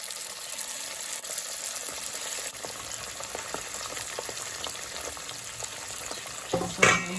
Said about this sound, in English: Now we'll fry the final batch.